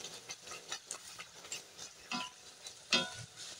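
Stuffed pea kachori frying in hot oil, with a soft continuous sizzle broken by irregular bubbling pops and clicks of stirring, close and fairly quiet, with no talking.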